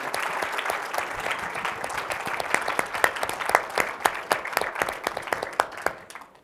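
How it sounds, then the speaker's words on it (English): An audience claps for a panel at a celebration of AmeriCorps, Senior Corps and Peace Corps, the applause dense and even at first, then thinning into scattered individual claps before fading out at the end. "Let's have another round of applause for our alumni panel."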